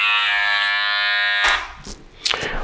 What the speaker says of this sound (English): I'm going to start clipper over comb